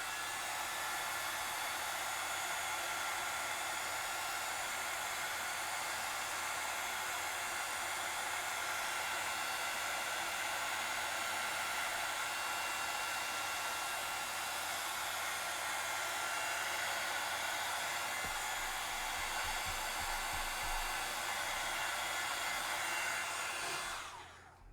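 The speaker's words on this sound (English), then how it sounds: "So I'm going to grab my heat gun just to dry off what we have done so far." A heat gun drying paint on a bird painting, a loud steady blowing hiss that runs unbroken for about twenty-four seconds with a few low thumps of handling near the end before it switches off.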